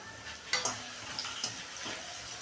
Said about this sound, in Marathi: मिरची तळून घेऊया